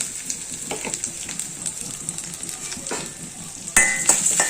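Urad dal roasting in a pan, a continuous soft sizzle with scraping stirring strokes and a sharper metallic clink near the end, close and moderately loud with no talking.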